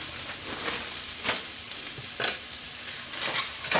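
Frozen corn and green beans fry and crackle in a pan for pork fried rice, a steady close sizzle broken by a few louder bursts as the vegetables are stirred.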